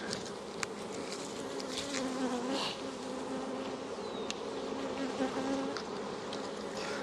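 Honey bees buzz around an old hive as a nuc is dropped in, a dense, steady outdoor hum of many insects close by with occasional louder passes of individual bees.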